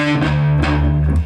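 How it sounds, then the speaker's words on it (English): A distorted electric guitar plucks its open 6th string with heavy palm muting, giving a short, loud, chugging burst of low muted notes. "I'm going to ask you to use a lot of palm muting and to pluck the 6th string down and up"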